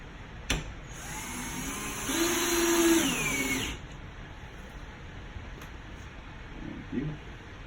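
A power drill drives screws into a prehung door frame, with a sharp click, then a loud whining run of about two seconds that bogs down and stops, followed by quiet handling noises.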